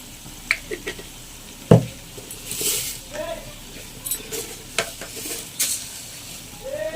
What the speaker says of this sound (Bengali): আমি এতে অল্প অল্প ঘি দিয়ে দেবো একটু